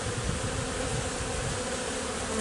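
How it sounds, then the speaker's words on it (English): Honeybees swarm around an open hive during a March beekeeping inspection, a dense, continuous buzzing drone filling the air close by without any voices. "There's a lot of bees around"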